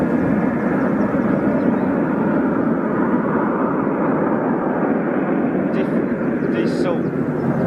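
A Falcon business jet flies overhead, its engine roar a loud, steady broadband rumble holding throughout, with faint chirps near the end.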